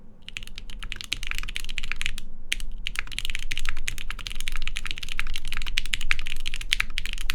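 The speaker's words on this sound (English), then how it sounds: "Box Ink V2 switches with a polycarbonate half plate." Fast, steady typing on a mechanical keyboard with lubed Box Ink V2 switches, a polycarbonate half plate and GMK keycaps gives dense, crisp clacks. A couple of brief pauses break them, and a low hum sits underneath.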